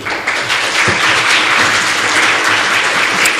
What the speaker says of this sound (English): I would like to hear a round of applause for all of you